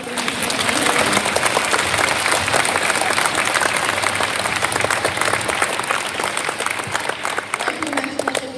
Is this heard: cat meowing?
no